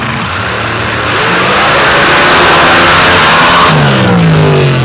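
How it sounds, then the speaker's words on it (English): A dirt drag racing car powered by a screw-blown 527 cubic inch Noonan racing engine roars loudly, the engine note climbing as it accelerates hard and then pulling away with a rising whine. "Eric Bidlack racing chassis with a screw-blown 527 cubic inch Noonan racing engine"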